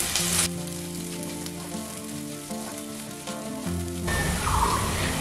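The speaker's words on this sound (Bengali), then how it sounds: "এখন তেলের মধ্যে দিয়ে দিচ্ছি 1টা কুচানো পেঁয়াজ। এবার পেঁয়াজটাকে 1 মিনিটের মতন ভেজে নিতে হবে।" Chopped onion frying in hot oil, a steady close sizzle running throughout with a brief louder burst at the start and a rougher crackle near the end, under a faint musical bed and no talk.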